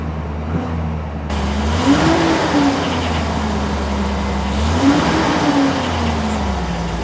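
A 2001 Chevrolet Silverado engine fires up and runs close by, its steady idle rising in two brief revs before settling, loud and with no one talking.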